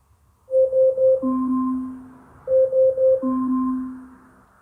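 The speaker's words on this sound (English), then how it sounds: "Set a timer for 10 seconds." The timer alarm of an Amazon Echo Dot (3rd generation) chimes twice, each round a quick pulsing high tone followed by a longer lower tone, clear and close in a quiet room.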